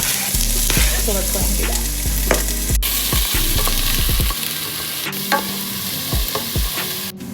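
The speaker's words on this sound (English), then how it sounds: "added more oil because we gotta saute our garlic and our chopped onion" Garlic and chopped onion sauté in oil in a pan for spaghetti, a steady loud sizzle with stirring scrapes and clanks throughout, a brief spoken line over it.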